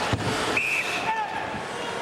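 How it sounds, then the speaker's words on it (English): A referee's whistle blows during an NHL playoff ice hockey game between the Chicago Blackhawks and St. Louis Blues, a short shrill tone, then a fainter second blast, over steady crowd noise in an arena. "And whistle."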